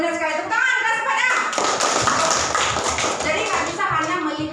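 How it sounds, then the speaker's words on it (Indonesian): Children in a classroom break into loud applause, a dense burst of clapping that swells and then fades, with a voice speaking before and after it. "Tepuk tangan, keras pada."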